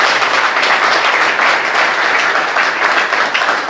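Sustained audience applause fills the hall at a gathering honouring a brother, a dense steady wash of clapping with no pauses throughout.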